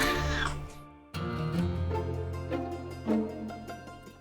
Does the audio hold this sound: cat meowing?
yes